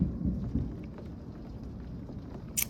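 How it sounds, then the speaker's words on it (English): Rain falls during a thunderstorm in Houston, Texas, a faint, steady low patter with soft rumbling underneath and a brief sharper crackle near the end, with no voices. "I guess Yahweh's making a point with the rain here"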